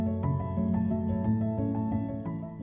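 Soft piano notes in a gentle, reverberant melody, processed to recreate the piano tone of a well-known piano recording, play alone at moderate level for a few seconds.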